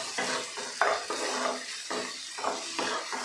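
Spoon or spatula scraping and stirring finely chopped capsicum and mixed vegetables in a hot pan for veg fried rice, a series of close, quick scrapes over a light sizzle, no talking.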